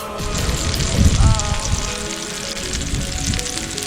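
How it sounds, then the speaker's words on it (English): Fish frying on a camp barbecue in Western Australia, a steady close hiss of sizzling fat with a louder crackling swell near the start, heard alone without talk. "Sizzler. Old Mackie on the barbie."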